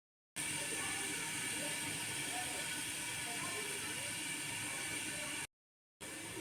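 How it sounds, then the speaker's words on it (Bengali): Radhuni seeds and green chillies tempering in hot oil, a loud steady hissing sizzle that cuts out briefly and then resumes. "রাঁধুনি আর কাঁচা লঙ্কা ফোড়ন দিলাম"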